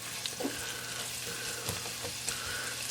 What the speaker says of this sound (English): we're going to let this saute for about 30 seconds until we start smelling the garlic